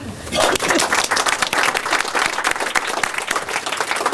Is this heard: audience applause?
yes